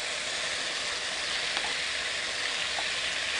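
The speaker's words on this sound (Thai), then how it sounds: "เราจะผัดกุ้งนะคะลงไป หอมกะปิค่ะพี่น้อง" Shrimp stir-fried with shrimp paste in a hot pan for a Thai dish hiss and sizzle steadily and loudly up close, a dense unbroken frying sound with no talk over it.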